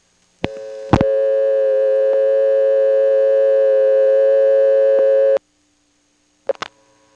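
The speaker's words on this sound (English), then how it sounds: "Here's the Coleridge reorder." Telephone reorder tone from the Coleridge, North Carolina exchange in 1977, a loud steady buzzing tone held for several seconds between line clicks, then a brief click of switching after it cuts off.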